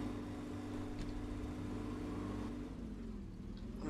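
Engine of a Lego car in the racing game Brick Rigs, a steady buzzing drone that holds pitch and then shifts slightly lower as it keeps racing, with no voices.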